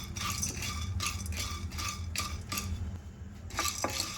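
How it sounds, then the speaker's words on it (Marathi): Cloves and black peppercorns dry roasting in a pan over low gas, giving soft repeated clinks and scraping of stirring at close range, quiet and steady. "लवंग आणि काळी मिरी ती पण मंद गॅसवर भाजून घ्यायची।"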